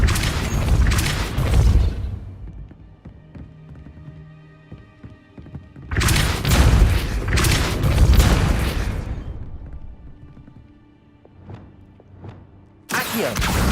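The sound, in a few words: Repulsor spell blast effect in the video game Hogwarts Legacy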